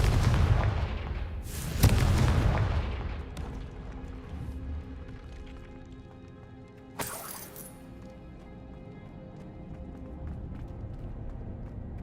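Confringo spell explosions in Hogwarts Legacy, a heavy blast followed by another sharp burst a few seconds later, each fading out into a low rumble and crackling debris against ambient game sound.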